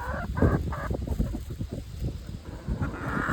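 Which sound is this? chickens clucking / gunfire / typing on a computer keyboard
chickens clucking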